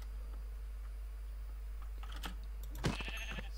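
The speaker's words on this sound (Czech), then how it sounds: "Ovce." A sheep bleats in the Minecraft video game, a short nasal cry near the end, mixed with light clicking sounds over a steady low hum.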